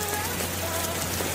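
Steady, dense rain falling on a surface, a continuous loud hiss of drops close by with no talk, lasting just over a second.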